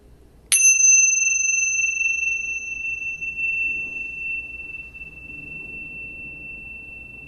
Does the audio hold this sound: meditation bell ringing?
yes